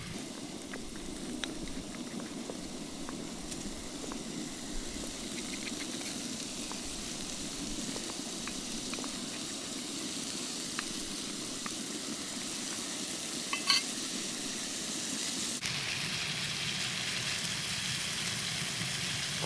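Potato hash with onion and garlic frying in olive oil in a pan for a backpacking breakfast, a continuous close sizzle with scattered pops and crackles, no talking.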